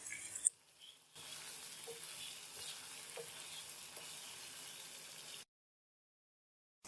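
Chicken frying in a pan with added garlic-ginger paste for a black pepper chicken karahi, a steady soft sizzle with light stirring scrapes, quiet and continuous, then cutting out to silence near the end.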